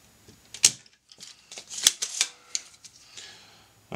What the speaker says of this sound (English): We're applying heat to the solder connections, and then vacuuming the solder away.